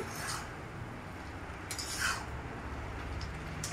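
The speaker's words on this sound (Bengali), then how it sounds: "এবার আমি এটাকে ভালো করে আরেকটু মিশিয়ে নেব, নাড়িয়ে দেবো আরেকটু" A spoon scrapes and stirs through mixed vegetables with a little sugar in a pan, giving soft continuous rubbing and clinking with one brighter scrape midway, quiet and with no voices.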